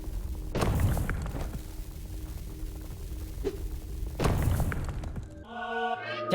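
Bombs blasting boulders in a video game produce two deep booming thuds a few seconds apart, loud and near, over steady background game noise, ending in a short musical jingle.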